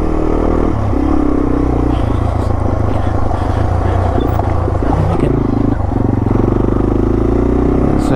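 Yamaha TW200 motorcycle ridden on dry off-road trails at Wildomar OHV Park, its engine droning steadily and close with shifting revs and rattling over the terrain, no clear talk.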